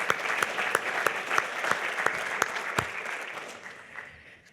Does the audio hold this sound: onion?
no